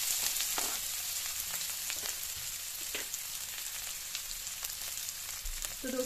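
Onions sizzle steadily in hot oil with cumin, a close, constant crackle with a few faint clinks of stirring.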